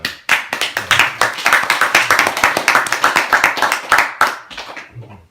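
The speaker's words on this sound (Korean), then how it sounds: "굳이 박수까지." An audience at a Buddhist temple sermon claps in quick, distinct, fairly close handclaps. The clapping keeps up steadily for about five seconds, then thins out and stops.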